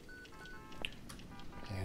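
Telephone tones from a public phone in the original GTA video game, a few short electronic beeps playing quietly over low background game noise, fairly near.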